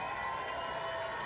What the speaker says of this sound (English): can we give my wife an amazing round of applause, please?